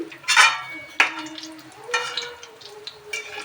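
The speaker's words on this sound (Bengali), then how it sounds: "হালকা আগুন আগুনে ভাজছি" Gentle sizzling of pakora ingredients frying together in a pan over low heat, with a few scraping stirs and soft clinks of a utensil recurring every second or so.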